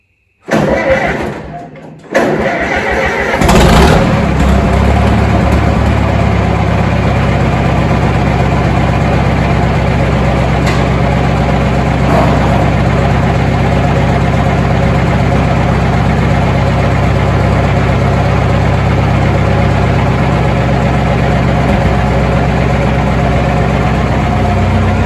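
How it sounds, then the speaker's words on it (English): A Land Rover 44K-style truck engine rumbles loudly and steadily near the listener after a brief door-like thump, holding a high idle rather than rising sharply. "Give it some throttle. Won't need much, it revs pretty high."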